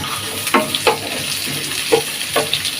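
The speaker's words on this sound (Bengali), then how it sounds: "ডালটা হয়ে গেছে, তেল দেব, পেঁয়াজ" Chopped onions fry in hot oil for a dal tempering, giving a steady close sizzle broken by several sharp stirring scrapes.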